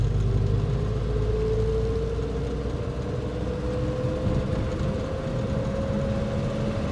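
A 1950s Standard Vanguard Phase 2 British car engine pulling in second gear, a loud, steady low rumble from inside the car with a droning tone that slowly rises as it accelerates.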